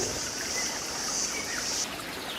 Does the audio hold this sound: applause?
no